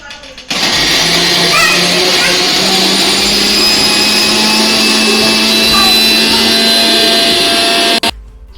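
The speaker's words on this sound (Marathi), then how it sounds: "मिक्सरमध्ये काटून बघा मस्त वेगळे झाले" A mixer grinder grinding tamarind chutney with coriander whirs continuously at high speed for several seconds, loud and close, then cuts off abruptly.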